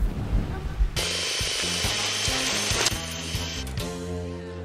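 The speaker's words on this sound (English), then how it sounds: "He just instinctively drills into textbooks?" A power drill bores into a textbook in a film scene, a sustained whirring grind with rising pitch and mechanical rattling over a music background.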